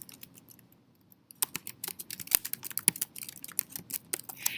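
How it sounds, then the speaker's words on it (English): Rapid, close clicking of keys on a computer keyboard, starting softly and then becoming a busy, uneven stream of taps. "So I'm going to type in my email address."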